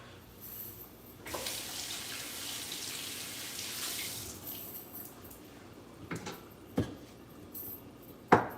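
Tap water pours steadily into a sink while a cutting board is rinsed under it. The flow is close and continuous, followed by a few sharp clinks and knocks near the end.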